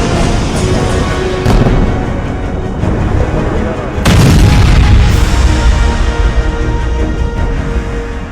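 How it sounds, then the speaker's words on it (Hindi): Blast from an Israeli strike on a Hezbollah weapons and ammunition depot in Beirut: a loud, dense rumbling roar with sharp bursts near 1.5 and 4 seconds, sustained booming throughout, with faint voices underneath. "इजरायली सेना का धमाका"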